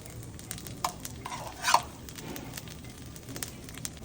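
Butter sizzling on a Sidapur benne dosa on a hot griddle, a soft steady crackle and hiss with a few brighter spattering pops, fairly faint, with no talking.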